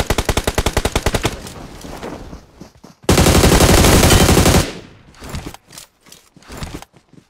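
Loud gunfire from the mobile battle-royale game PUBG Mobile: a rapid train of automatic shots, a dense sustained burst of fire, then scattered single shots with no one talking.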